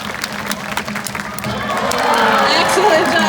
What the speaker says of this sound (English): we're gonna need one last round of applause for her today